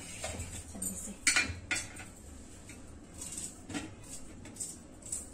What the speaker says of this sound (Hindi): तो चलिए अब काट लेते हैं प्याज और टमाटर